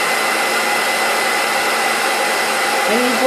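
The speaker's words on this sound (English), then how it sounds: "You take your blow dryer and you make sure it's set on cool." A handheld blow dryer on the cool setting runs with a steady, loud, close whoosh of air, unbroken for the whole stretch.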